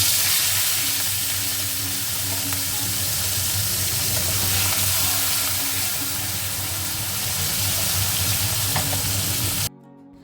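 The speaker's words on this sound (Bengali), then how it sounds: "চিংড়ি মাছটা আমি এখানে লাল লাল করে একটু ভেজে নিচ্ছি" Prawns frying in a pan, a dense continuous sizzle with faint crackles and stirring scrapes, close and steady for about ten seconds, with no talking.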